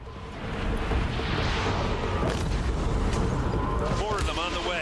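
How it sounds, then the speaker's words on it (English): Explosion in the video game Horizon Zero Dawn: a loud, sustained rumbling blast with crackling debris filling several seconds, close and dense, with a voice cutting in near the end. "Should cause an explosion."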